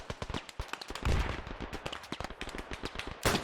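Rapid bursts of gunfire from the video game Beyond the Wire crack out one after another in a dense, uneven stream, with a heavier boom near the middle and another loud blast at the end.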